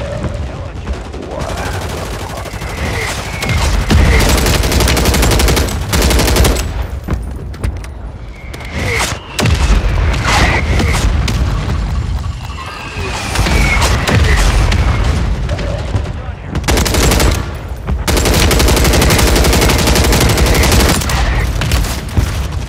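Airstrike explosions and gunfire in a battle royale video game: loud, repeated booms and rattling bursts of shots crowd together in dense waves, with brief lulls and occasional voices underneath.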